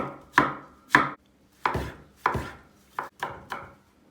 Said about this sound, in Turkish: Bir tane de soyulmuş domates doğrayacağım.